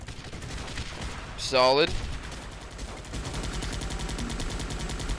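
Sniper fire in the mobile strategy game Guns Up! cracks as a quick burst of shots amid continuous battlefield rumble, with a brief spoken word over the game audio.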